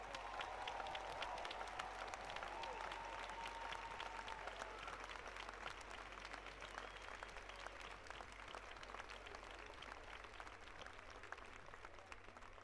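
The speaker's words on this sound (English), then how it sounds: "can we give another round of applause for Mr. Perkins?" A commencement audience at Fayetteville State University applauds, a dense, steady wash of clapping from a large crowd that carries on for the whole stretch with no break.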